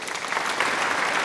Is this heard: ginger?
no